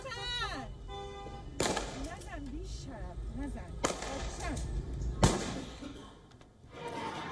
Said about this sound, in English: They're repeatedly shooting as they walk along a street